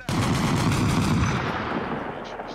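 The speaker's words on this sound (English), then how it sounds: "So you're getting shot." Rapid automatic gunfire in the game Arma Reforger, a dense burst of repeated shots that starts abruptly, runs loud for over a second, then trails into a rumbling tail with a few faint later cracks.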